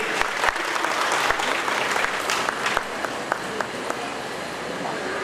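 Applause from an audience at a religious discourse gathering, a dense, steady wash of clapping with some louder individual claps standing out, thinning slightly toward the end.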